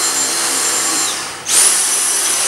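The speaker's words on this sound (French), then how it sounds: "ce nouvel aspirateur que ma mère a acheté," A new German-made vacuum cleaner runs steadily with a loud, hissing whine, dips briefly, then surges back louder with a high-pitched rise when switched to boost.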